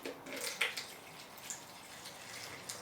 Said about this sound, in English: So put a bit more water in there